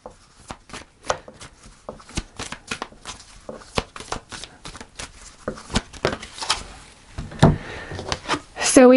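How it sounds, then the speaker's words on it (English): Tarot cards are shuffled with a steady flurry of quick papery riffles and taps, ending in louder slaps as a final card is drawn. A voice talks faintly underneath. "So I'm going to pull a final card"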